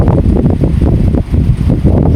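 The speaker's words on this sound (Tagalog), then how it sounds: "Mahangin kasi dito eh" Loud, blustery wind buffets the microphone outdoors at Baclaran market, with deep rumbling gusts that rise and dip unevenly, close and overwhelming.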